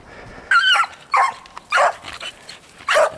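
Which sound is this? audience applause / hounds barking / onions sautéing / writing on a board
hounds barking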